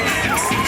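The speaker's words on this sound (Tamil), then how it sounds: "a big round of applause" A school annual day audience cheers and shouts after a record-setting Bharatanatyam dance, a dense crowd roar with children's high shrieks, loud and continuous over a short burst.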